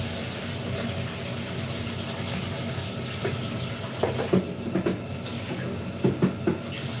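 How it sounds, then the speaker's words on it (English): A bowl is washed by hand in a kitchen under steady running water, with a few soft knocks and clinks of the bowl near the end. "wash this bowl out as well"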